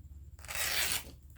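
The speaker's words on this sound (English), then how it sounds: "And then I'm going to rip that down the center." A single sheet of paper torn down the center for a junk journal tag, one quick, close ripping burst lasting about half a second, set against quiet room tone.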